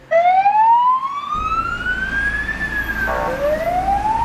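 A fire engine siren wails loudly and close, rising and falling in long sweeps with a rumbling truck engine underneath, during a fire drill at a city hospital.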